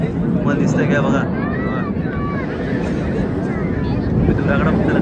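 An aircraft roars overhead at an Air Force show over Girgaon Chowpatty beach, a broad rushing drone with a faint shifting pitch, heavily buffeted by wind noise on the microphone with voices of onlookers mixed in.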